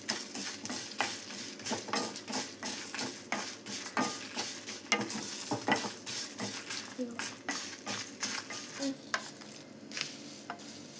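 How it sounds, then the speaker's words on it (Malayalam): Cumin seeds frying and crackling in a pan, stirred with a spoon, for Ramassery idli powder; steady close sizzle with frequent sharp scraping and clinking strokes throughout, no talking. "കുറച്ച് ജീരകം 1 സ്പൂൺ ഇട്ടു. നന്നായി ഫ്രൈ ചെയ്യുക."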